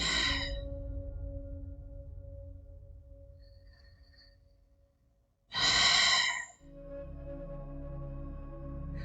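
Deep breathing during a yoga core flow session: a long slow exhale fading over several seconds, then a sharp loud inhale burst and a steady sustained breath, close and quiet with no talk.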